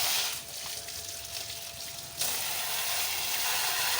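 A water pressure washer sprays and cleans the panels of a dismantled motorbike, giving a steady loud hiss that cuts in sharply and stronger partway through, with no talk.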